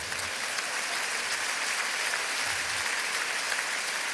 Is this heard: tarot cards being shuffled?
no